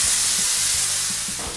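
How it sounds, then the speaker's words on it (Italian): Meat searing skin-side down in a very hot, thick-bottomed non-stick pan, a steady loud hiss of frying with a few soft low clunks, close up and without voices. "Abbiamo fatto diventare molto calda una pentola dal fondo spesso e antiaderente e rosoliamo per prima la parte della pelle"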